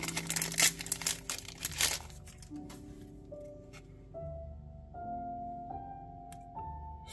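A Yu-Gi-Oh! Magnificent Mavens booster pack wrapper crinkles and tears close up in a couple of quick bursts, then gives way to rising tonal music with only faint rustling underneath.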